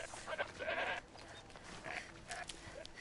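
A goat bleats a few short, wavering times in the snowy Frozen Wilds area of Horizon Zero Dawn. The cries are quiet and come in brief bursts over low game ambience.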